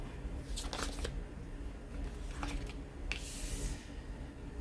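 Tarot cards are riffled and shuffled in a few quick, crisp bursts, soft papery flutters close by over a steady low room hum, with short pauses between shuffles.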